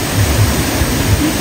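A waterfall roars in a loud, unbroken broadband rush of falling water, steady and close, with no voices.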